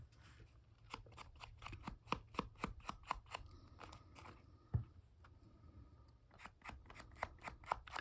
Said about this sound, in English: trim off our overhang here